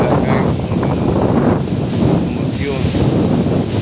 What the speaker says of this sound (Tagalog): So ang lakas na hangin.